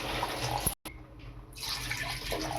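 Water poured into a pot for chicken biryani, a steady close splashing and trickling stream broken by a short gap, then continuing.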